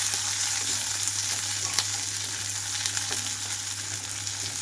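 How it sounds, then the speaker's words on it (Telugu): Onions fry in a pan with green chillies for steamed ivy gourd fry, a steady close sizzle with faint crackles and an occasional stir, continuous and even with no talking. "ఇక్కడ ఉల్లిపాయలన్నీ వేగిపోవాలి"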